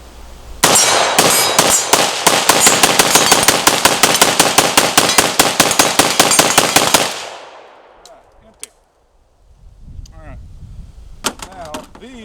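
A PSA AK rifle fires a fast, loud string of about forty rounds at close range for several seconds, then falls silent, with brief talk afterward.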